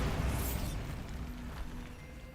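A Bombarda blasting spell goes off in Hogwarts Legacy as one dense, rumbling burst with a sharp opening crack, then a noisy roar that slowly decays across the whole stretch.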